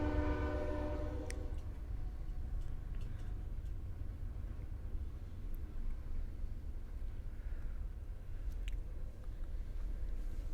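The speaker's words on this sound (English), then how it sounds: "Train." A train passing with a horn, which sounds a harmonic blast at the start over a continuous low rumble of rolling wagons that carries on steadily afterward.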